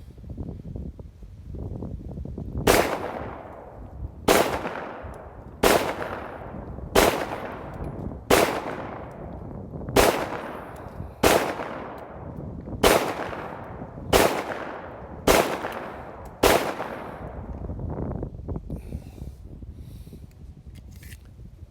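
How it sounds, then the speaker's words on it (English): A 30 Super Carry compact pistol emptying its magazine at an outdoor range, about eleven loud, sharp shots at an uneven pace roughly a second or more apart, each followed by a decaying echo. "I'm gonna go ahead and dump the magazine."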